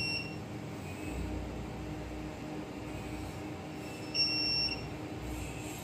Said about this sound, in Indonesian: Buzzer juga berbunyi ya saat berpindah.